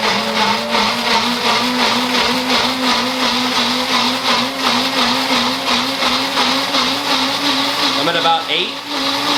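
A Waring blender runs hard and steady, a loud close whirring motor with a pulsing rhythm, while a voice speaks briefly over it near the end.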